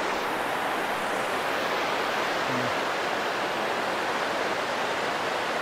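Fast-flowing river water rushes past a riverside campsite at Kg. Sahom, Kampar, Perak, in the rainy season, giving a steady, dense, close roar of churning water that holds unbroken throughout with no voices.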